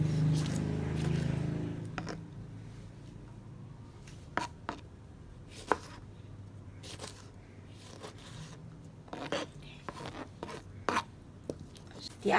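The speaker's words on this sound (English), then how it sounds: "At the same time, we're going to chop up some onions." Onions being chopped with a knife on a board while making sweet tomato chutney: scattered crisp taps and cuts, some in quick clusters, heard close over quiet room tone.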